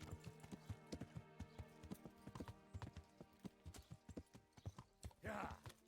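In Kingdom Come: Deliverance, a horse walks with a brisk, regular clip-clop of hooves, steady and close. A voice comes in briefly near the end.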